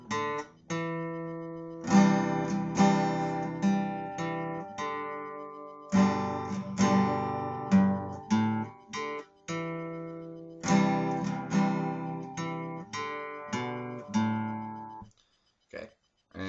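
A song played on acoustic guitar, with strummed chords and picked single-note runs moving through the progression at a steady pace, alone and close, ending with a few sparse notes.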